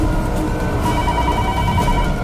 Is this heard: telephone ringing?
yes